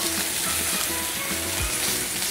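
Pieces of meat sear in oil in a stainless steel frying pan, giving a loud, steady, close sizzle and crackle throughout with no voices.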